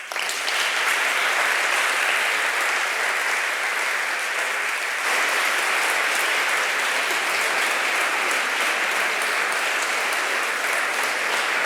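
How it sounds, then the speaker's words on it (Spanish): An audience at an entrepreneurship awards gala gives long, sustained applause, a dense and steady wall of clapping at an even loudness from start to finish. "te estaríamos aplaudiendo toda la mañana"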